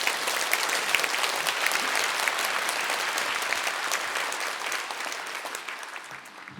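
A church congregation applauds steadily to welcome a retired senior pastor, a dense, even wash of clapping that holds for several seconds and then gradually thins toward the end.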